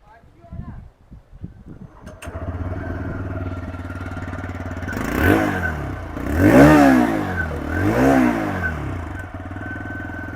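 A TVS Raider 125cc motorcycle engine idles, then revs sharply twice with a throaty exhaust note, settling back to a steady idle between bursts.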